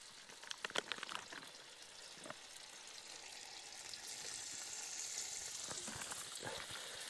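Bacon sizzles in a frying pan, a soft crackling hiss that grows steadier and fuller, with a few faint clicks and taps early on.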